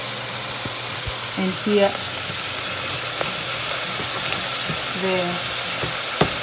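Garlic sizzles and fries steadily in a pan, a constant crackle with a few scrapes of stirring, while a person speaks briefly over it.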